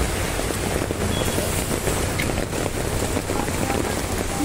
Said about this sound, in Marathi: एवढा पाऊस आहे